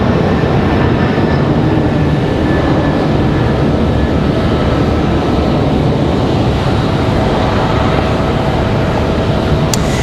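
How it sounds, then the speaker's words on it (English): An Air Canada airliner departs Raleigh Durham airport with a loud, steady broadband jet roar that fills the scene, constant and close with a faint high whine, with no voices. "Very nice departure here for Air Canada."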